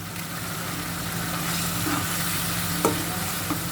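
Biryani spices and store-bought masala powder sizzle and fry in a pot while being stirred, a steady loud hiss with occasional scraping clicks of the spoon.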